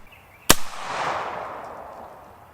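A single sharp 300 Blackout rifle shot fired into clay during an ammo test, loud and close, followed by a long fading echo rolling across open ground.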